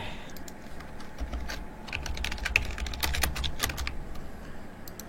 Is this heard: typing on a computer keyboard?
yes